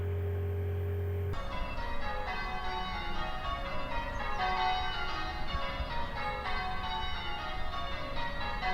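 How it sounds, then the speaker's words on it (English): Spoiler bell sound effect, a bright bell-like chime that starts about a second in and rings on with sustained overtones, following a short steady tone. "Yay, there was the spoiler bell."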